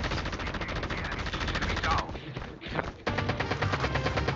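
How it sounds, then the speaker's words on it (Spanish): Rapid automatic gunfire in a battle royale game, a loud, fast, regular rattle of shots that breaks off briefly midway for a few thuds, then resumes just as intensely. "Me están disparando."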